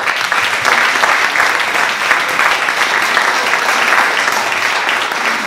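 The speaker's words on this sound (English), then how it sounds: "let's have a big round of applause" A crowd at a book event in Palo Alto gives loud, sustained applause, a dense, even roar of clapping for several seconds with no talk.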